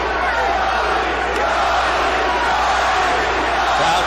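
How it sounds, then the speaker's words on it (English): A large arena crowd at a professional boxing match roars steadily and continuously, a dense, loud wall of massed voices that may be chanting, with no pauses across the whole stretch. "Crowd begins to chant immediately for the love of their lives"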